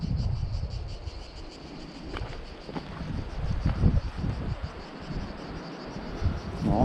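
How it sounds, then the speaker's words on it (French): Wind blows around beehives whose boxes are packed with honey, a steady rushing roar with gusty low rumble and a high hum running through it. "Non, c'est le vent."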